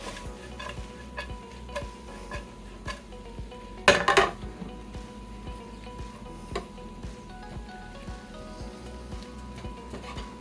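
Haluski being mixed in a pot in a home kitchen: steady clinks and scrapes of a utensil against metal, with a loud burst of clattering near the middle, close and alone without talk.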